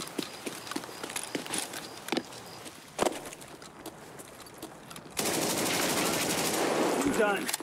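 A gun fires in the video game Escape from Tarkov as a string of sharp, quick shots and clicks with a few louder single bangs, followed by a sustained loud burst of noise near the end.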